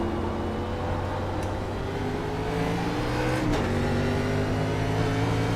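A NASCAR race car in the iRacing game pulling away out of a corner at Watkins Glen, its engine droning steadily with rising pitch as it accelerates, loud and close throughout.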